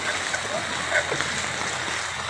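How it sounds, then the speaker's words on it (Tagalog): Flood water splashes and churns along a housing subdivision street at ACM Woodstock Homes in Alapan, Imus, Cavite, a steady rushing wash with a few sharper splashes, fairly close, with voices faintly mixed in. "Wag laro tayo sa baha."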